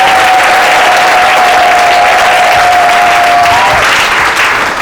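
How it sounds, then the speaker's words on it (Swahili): A church congregation at a Lord's Supper service claps in loud, sustained, dense applause that fills the room evenly, with a faint steady tone running underneath. "Mpe Yesu sadaka nzuri ya makofi."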